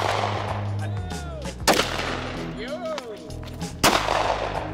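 Glock pistol fired at a shooting range: two sharp, loud shots a couple of seconds apart, each ringing out briefly over a steady outdoor background with faint whistling tones.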